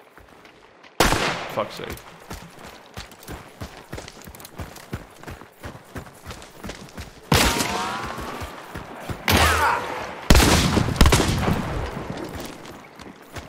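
Gunfire in the video game Hunt: Showdown, with loud sharp shots and rapid bursts cracking repeatedly across the stretch, several heavy volleys standing out over a steady background, while a man swears briefly.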